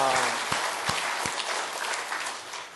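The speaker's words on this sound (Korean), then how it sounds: "하나님 앞에 영광의 박수 돌리시기 바랍니다." Church congregation applauding during a Thanksgiving harvest Sunday worship service, a dense steady clapping throughout with a few sharper low thumps early on, moderately loud and filling the room.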